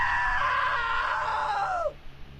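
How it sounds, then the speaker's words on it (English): One loud, sustained scream from a character in the video game What Remains of Edith Finch lasts about two seconds, then drops off abruptly into quiet. "Now that was a great scream."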